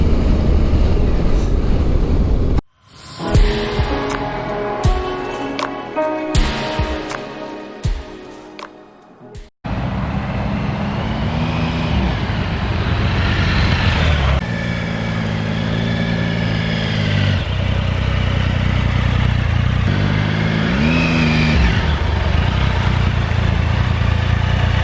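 Triumph Tiger Sport 1050 motorcycle on the move, a loud continuous engine drone with wind rush, interrupted by a stretch of clicks and clatter before the riding roar resumes and holds steady.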